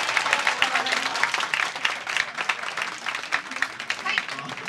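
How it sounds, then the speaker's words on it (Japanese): A live audience at a Japanese idol performance event gives performers another big round of applause, dense, continuous clapping with crowd noise and some voices mixed in. "もう一度大きな拍手を。"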